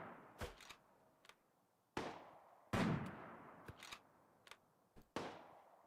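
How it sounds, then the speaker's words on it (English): A Slugger turret fires at Garm in RimWorld, sending sharp gunshot bursts at irregular intervals, some heavier and booming, each decaying quickly against a quiet background. "Can it actually shoot Garm? Oh, shoot, it can."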